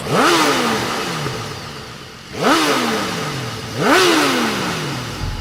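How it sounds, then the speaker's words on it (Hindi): A motorcycle engine revs up three times in a row, each rev climbing sharply in pitch and then easing off. It is loud and close, with no one speaking. "अंधेरे में बाइक इंजन की आवाज सुनाई दी।"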